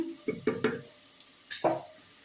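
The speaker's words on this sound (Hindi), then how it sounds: "प्याज फ्राई हो गए, अब इसमें मसाले डालती हूँ।" Spices such as turmeric, salt and cumin tipped into onions frying in a pan for kadhi pakora, then stirred, giving a few short scraping stirs and a sizzling burst, close and fairly quiet with no talk.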